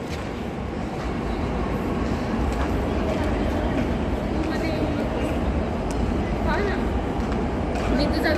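A Pune Metro train pulls out of Civil Court station with a sustained rolling rumble and hiss on the platform, while a voice talks over it.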